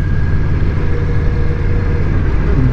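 Steady mid-pitched engine drone from a 2020 Indian Scout cruiser motorcycle holding third gear around 50, continuous and close with constant wind rush and no talk.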